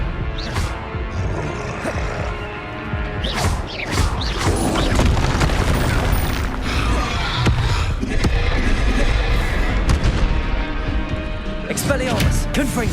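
Repeated Confringo fire-spell blasts from Hogwarts Legacy boom in dense, chaotic bursts over a continuous clatter of combat effects, with a voice calling spell names throughout.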